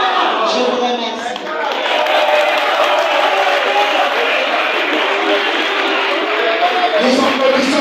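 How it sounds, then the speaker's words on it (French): Crowd applause with cheering at an official Congolese political platform launch, a dense, loud, sustained wash of clapping and voices filling the whole stretch, with a brief dip near the start. "Nous applaudissons très fort Son Excellence"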